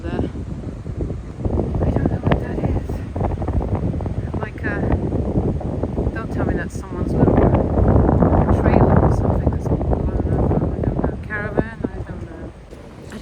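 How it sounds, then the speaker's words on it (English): Strong wind buffets and roars across the microphone in heavy gusts over land in Portugal, with a person talking intermittently beneath the rumble. "even today it's very windy"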